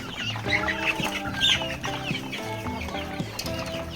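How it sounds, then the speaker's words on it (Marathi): Several chickens cluck and murmur nearby in an overlapping, continuous chatter, with no voices. "बघा सर्व कोंबड्या आपल्या इथे"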